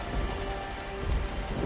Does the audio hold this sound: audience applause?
no